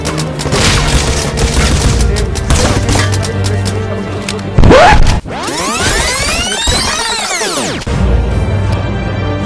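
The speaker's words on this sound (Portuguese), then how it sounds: "tô trocando tiro com ele" Gunfire is exchanged in the survival video game Rust, with dense rapid shots and booms close up. A loud whooshing sweep follows, then more steady noisy action, and nobody speaks.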